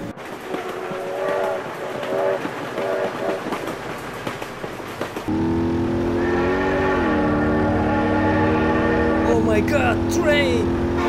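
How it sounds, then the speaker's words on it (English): Train rolling past at close range with a loud, sustained horn blast that holds steady for several seconds over the rumble of the cars, after quieter background sounds and some nearby voices. "train!"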